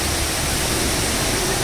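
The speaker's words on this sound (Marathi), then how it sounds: "काचेवरनं पाणी खाली जातं, खालच्या अनेक 2 मजल्या मग काचेतनं पाणी जातं" Indoor waterfall at the Jewel in Changi Airport, Singapore, water pouring down glass through several floors, a dense continuous roar heard briefly and loudly with no break.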